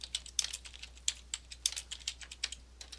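A computer keyboard clacks close by as a full name is typed in. The keystrokes come quick and uneven, some bunched together and some spaced apart, over a faint steady hum, with no talking.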